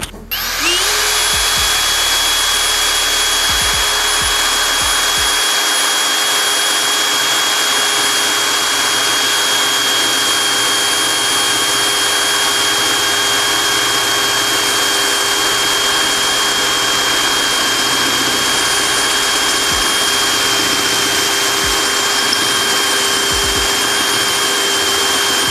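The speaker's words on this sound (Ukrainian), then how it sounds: "Переходимо до металу і зразу пробуємо максимальний діаметр, який він може свердлити." A Vitals Professional cordless drill boring through 5 mm steel with a 13 mm bit, a loud, steady high-pitched motor whine with grinding bit noise that runs unbroken for about twenty-five seconds after a brief start-up.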